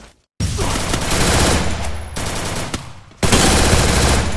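Sustained automatic gunfire from the Free Fire battle royale game, loud and dense bursts of rapid shots nearly filling the clip, with a brief pause near the start and another lull before a heavier final burst.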